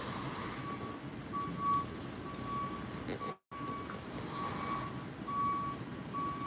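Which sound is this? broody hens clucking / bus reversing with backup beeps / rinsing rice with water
bus reversing with backup beeps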